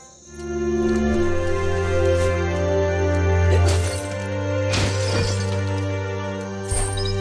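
A wooden box shatters in the action game Biomutant, a loud crash with splintering debris followed by sustained droning game music and tonal hum, with scattered breaking clatter across several seconds.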